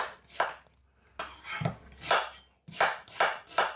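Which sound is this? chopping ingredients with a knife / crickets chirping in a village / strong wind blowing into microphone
chopping ingredients with a knife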